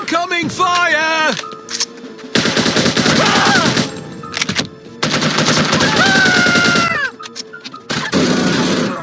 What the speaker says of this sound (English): All these bullets! Whoa! Incoming fire!